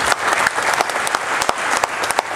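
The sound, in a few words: audience applause for Prudential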